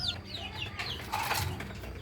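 A spotted chicken clucks close by, giving a few quick descending calls early on before quieter farmyard sounds carry on.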